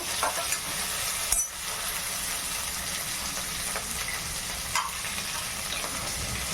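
Sliced onions for paneer butter masala fry in a pan and are stirred, giving a loud, continuous sizzle with scraping stirs and a few brief clatters, and no talking.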